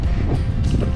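Strong wind buffets the microphone on a riverside cycle path along the Rhine in the Upper Middle Rhine Valley, a steady loud low roar filling the whole second with no voices.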